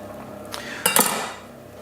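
Onions and shallots are dropped into a hot pan, giving a sharp clatter and burst of sizzle that quickly fades, close and loud.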